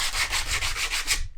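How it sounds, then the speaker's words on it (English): Sandpaper rubs back and forth along the edge of an MDF worktop panel for a campervan conversion. The strokes are steady and rhythmic, about seven of them, close and fairly loud, with no talk. "I'm just going to clean it up a little bit with a piece of sandpaper"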